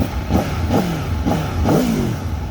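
A 2021 Aprilia Tuono V4 Factory motorcycle engine blips repeatedly, four sharp rising-and-falling revs in a steady rhythm, loud and close over a low rumbling idle, with no talking.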